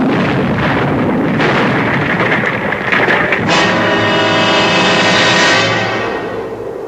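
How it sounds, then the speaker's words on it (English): A loud explosion sound effect from a radio mystery drama gives a sustained, roaring rumble with a sharper burst partway through, then a long rolling decay, heavy and close with no voices. "When suddenly there was a flash of light and a loud explosion."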